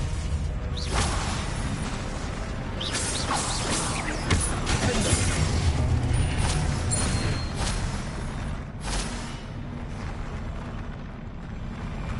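Expelliarmus and other spell effects during combat in the Hogwarts Legacy video game, a continuous roar of whooshing bursts, eruptive blasts and crashing impacts, loud and dense throughout.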